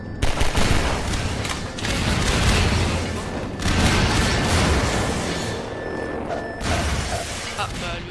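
Explosions and bursts of gunfire in the video game Half-Life 2, several loud blasts in a row with dense rumbling, mixed with game sounds and someone talking over them.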